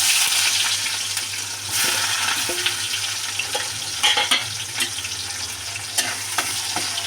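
Onions frying in hot oil with whole cumin seeds for a tilapia curry, a steady dense sizzle with occasional stirring scrapes and crackles, close and fairly loud with no talking.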